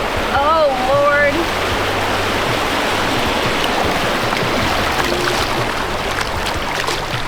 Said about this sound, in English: we're coming upon the first real current that we've seen, or rapid that we've seen